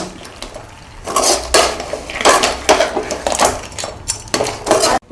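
A spoon scrapes and clatters against a pan as crab is mixed into masala, with repeated loud metallic strokes in an uneven rhythm, close up and with no talk.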